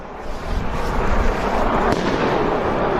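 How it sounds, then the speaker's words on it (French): Outdoors in a Brussels park, a dense crackling burst of firecrackers or grenade-like blasts rolls on for several seconds, loud and continuous with sharp pops and rumbling echoes. "Encore une grenade. Je sais pas si c'est des grenades ou des pétards."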